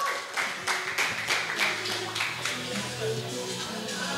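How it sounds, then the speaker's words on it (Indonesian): Studio audience applause on an Indonesian football talk show, a steady run of hand claps at moderate level with voices mixed underneath. "ini dia boleh tepuk tangan buat Dava"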